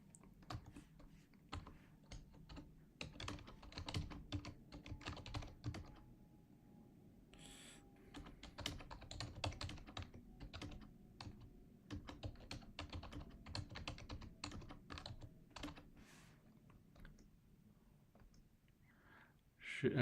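Fingers tap out a poll on a computer keyboard in quick bursts of close clicking keystrokes, with brief pauses between runs and a louder bump at the very end.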